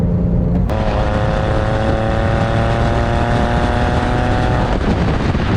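Porsche 911 996 fitted with an FD Motorsports Fister exhaust, driving on a highway, its engine holding a steady, loud drone with a clear harmonic tone close up, alone and without talk.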